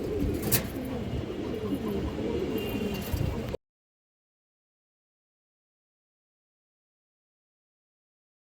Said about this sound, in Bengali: এই যে দেখেন দর্শক টকটকা লাল গিয়ারের একটা হাই ফ্লায়ার নর কবুতর